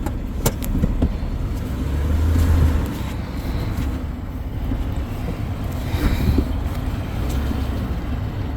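A vehicle towing a trailer maneuvers slowly, heard as a steady low engine rumble with wind buffeting the microphone, a couple of faint knocks and clunks, and no talk.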